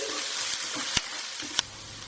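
Onions, ginger and garlic sauté in a pan for a mild chicken jalfrezi, giving a steady bright sizzle with a few sharp knocks of a spoon against the pan.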